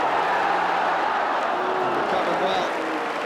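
Football crowd at an Arsenal versus Liverpool match applauding Stuart Robson, a broad, steady roar of clapping and crowd noise with a commentator talking over it.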